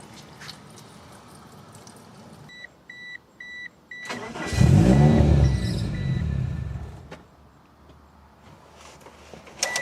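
A second-generation Mitsubishi Eclipse starts with a few chimes and then its engine revs up loudly before settling to a steady drive, heard from inside the car without talk.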